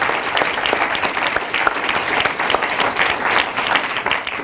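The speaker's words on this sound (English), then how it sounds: "let's just have another round of applause for those incredible" An audience claps for pitch teams at a 2019 pitch day, many hands producing a steady, fairly loud wash of applause that holds evenly throughout with individual claps standing out.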